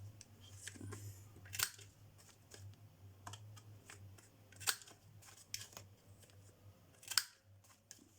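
Scissors snip through card stock for a handmade Christmas card, a few sharp isolated cuts spaced apart over a low steady hum in a quiet room.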